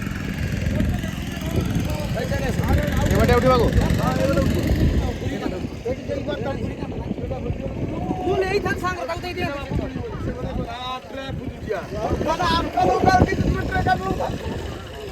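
A motor boat engine rumbles low and steady at Talsari, Odisha, near Digha, mostly buried under close, continuous talk from several people.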